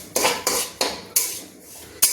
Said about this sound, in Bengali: আমি সুজিটাকে নেড়ে নিচ্ছি যাতে সুজিটা না চুঁয়ে যায়।